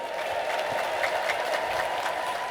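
Church congregation applauding together in praise after a healing testimony for a toddler, a steady dense wash of clapping with crowd noise throughout, ululation not clearly distinct.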